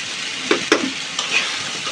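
Cubed potatoes and yardlong beans frying in a pan, a steady close sizzle broken by a couple of distinct clinks and scrapes of a spoon stirring.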